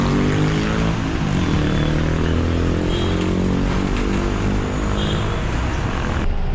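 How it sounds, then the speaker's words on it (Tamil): City bus pulling away from Peters Road bus stop, a loud continuous engine drone throughout as it gets moving, heard from on board with no talking. "பீட்டர்ஸ் ரோட்லேருந்தும் இப்போது பஸ்ஸு ஸ்டார்ட் ஆகிடுச்சிங்க"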